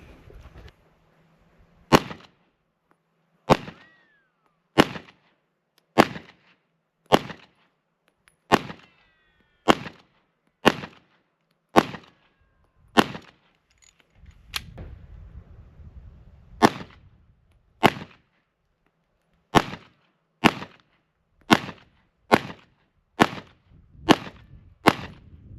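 Sharp, close gunshots from cheap practice ammunition fired at a target, about twenty single reports spaced evenly over the stretch, with a brief pause and a low rumble near the middle.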